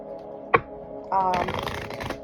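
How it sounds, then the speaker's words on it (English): A deck of tarot cards is shuffled close up: a sharp tap, then a quick riffling flutter of cards that lasts about a second, with a voice speaking faintly underneath. "let me get a good shuffle real quick on this"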